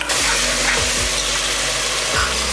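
Shallot paste hitting a hot pan for chicken pulao, a loud, dense, continuous sizzle up close with a few low knocks of a utensil, no voices.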